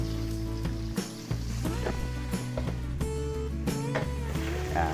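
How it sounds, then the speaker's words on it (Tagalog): Crushed garlic with a pinch of salt sizzles loudly as it is sautéed and stirred for beef pares, a continuous frying hiss with occasional spatula knocks. "Haluin lang po natin at luluto-lutuin natin yung bawang."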